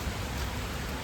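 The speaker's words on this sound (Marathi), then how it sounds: "बाहेर बघा किती पाऊस पडते. पाऊस भरपूर पाऊस पडते." Heavy rain pours steadily outside a farm house during strong wind, a dense, loud, continuous hiss with no talking over it.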